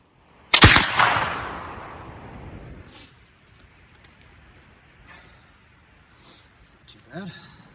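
A single loud, close rifle shot from a Kibler SMR .45 cracks out and rolls away in a long fading echo outdoors, with a few faint knocks and a brief voice afterward.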